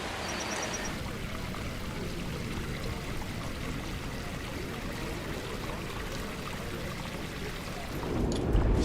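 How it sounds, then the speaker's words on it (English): Continuous rushing patter of rain, steady and fairly close, with a brief higher tone near the start and a louder surge at the end. "I hope you do like the sound of the rain."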